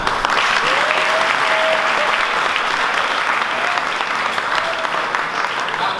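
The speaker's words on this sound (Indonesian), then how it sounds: "tepuk tangan buat Pak Camat" An audience at a mosque youth gathering claps steadily and loudly in a room, a dense continuous round of applause that holds for several seconds.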